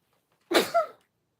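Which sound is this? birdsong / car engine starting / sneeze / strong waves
sneeze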